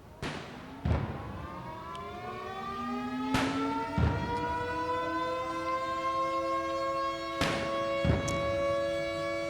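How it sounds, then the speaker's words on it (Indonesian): Six heavy ceremonial cannon booms fire in three pairs over a long, steady siren wail that sustains throughout, at Indonesia's Independence Day ceremony at Merdeka Palace. "Pelaksanaan tembakan meriam sebanyak 17 kali disertai sirine yang menandai peringatan detik-detik proklamasi."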